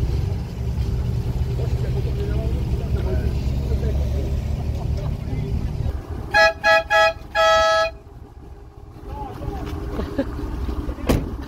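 A vehicle horn toots several short blasts followed by one longer honk, loud and near, after a steady engine rumble that fades out.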